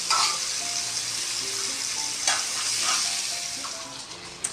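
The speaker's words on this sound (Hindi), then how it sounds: "जब तक हमारा ये फ्राई हो रहा है, हमारा टिक्का तैयार हो रहा है" Chicken tikka frying in a pan sizzles loudly and continuously up close, with occasional scraping and clinking as the pieces are moved around.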